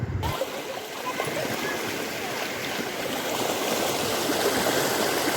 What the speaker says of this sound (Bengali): আগে তোমরা জলের স্রোতের আওয়াজটা শুনে নাও